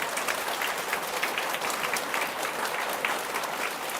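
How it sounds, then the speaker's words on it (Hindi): A classroom audience claps loudly and steadily at a live lecture, a dense, even patter of many hands that carries on without pause and with no voices over it. "ताली जोर से बजाओ ना।"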